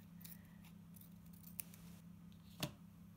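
Scissors cutting paper for a planner, a few faint snips in a quiet room over a low hum, ending in one sharper, louder close cut.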